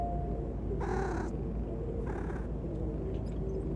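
A cat gives two drawn-out meows over a steady low rumble, like the cabin noise of a plane at night. The second meow is fainter than the first, and no one speaks.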